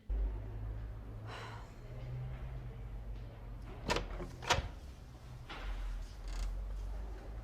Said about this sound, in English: I'll give it a right good go kicking this door in.